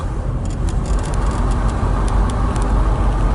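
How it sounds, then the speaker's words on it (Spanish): A 1986 Opel Manta GSI drives on the road with its windows down, giving a steady, smooth engine hum beneath broadband road and wind rush, continuous and fairly loud from inside the car. "El ruido del motor lo vemos bastante suave, hasta con las ventanas bajadas."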